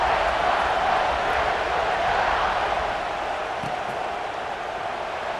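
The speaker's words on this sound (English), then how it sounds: "this crowd is buzzing after that last score" Steady, dense roar of a football stadium crowd in the video game College Football 26, a broad continuous buzz that holds loud for several seconds and eases slightly toward the end, with no clear voices standing out.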